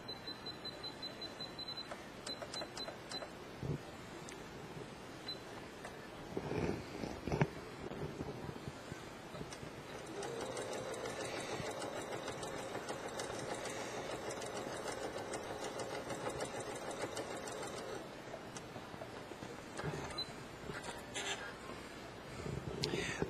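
A domestic sewing machine stitches a flat felled seam on fabric, running in a steady, fairly quiet buzz for several seconds with brief stops and starts, with faint background noise and no talking.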